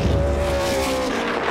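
Race cars roar loudly in a continuous engine drone during an ARCA race crash and pile-up, with engine tones shifting and no voices.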